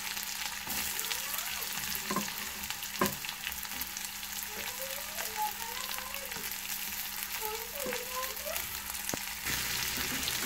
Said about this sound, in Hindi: प्याज को ट्रांसपेरेंट होने तक भून लूंगी